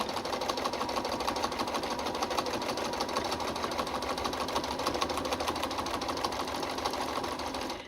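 A sewing machine runs steadily for the whole stretch, stitching a flanged border on a picture frame. The whirring hum is dense and continuous, close and fairly loud, with no pauses and no voices.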